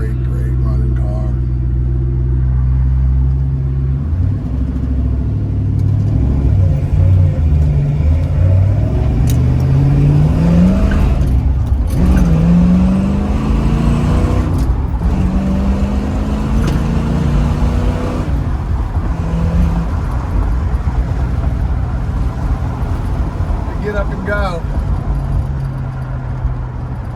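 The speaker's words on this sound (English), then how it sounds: "66 Bullitt Mustang, 4-speed 80 code, 289, strong running motor." A 1966 Bullitt Mustang with a 289 V8 and 4-speed runs strong, its loud steady engine drone rising and falling through several revving pulls, heard close throughout the drive with a voice talking over it.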